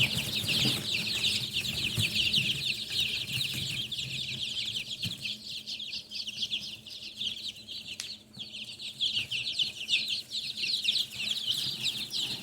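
Silkie chickens cluck and chatter softly in a coop, joined by steady high chirping from chicks or other birds throughout.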